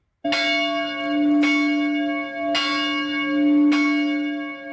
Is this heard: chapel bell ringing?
yes